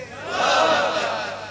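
A large crowd at a Bengali religious gathering shouts the takbir together in one loud, swelling cry that rises and fades within about a second and a half.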